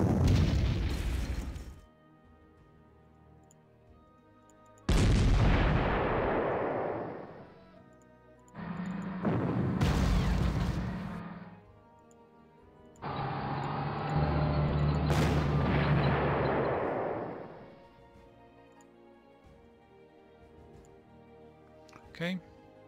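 Artillery fire in the Panzer Corps WWII strategy game, heard as several heavy booming bursts separated by short pauses, loud and close, with no talking over them.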